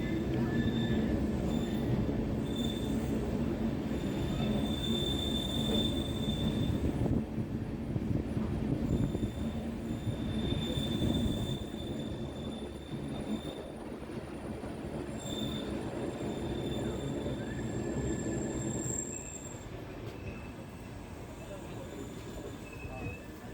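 Wheels of the 11097 Pune-Ernakulam express squeal steadily in high, sustained tones as the train rounds a sharp curve entering Castle Rock station, over a continuous loud rumble of rolling coaches.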